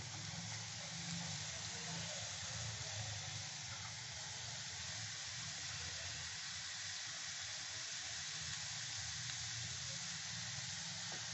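Grated bottle gourd fries with spices in a pan, giving a steady, even sizzle and hiss that stays at a constant moderate level throughout, close by and uninterrupted.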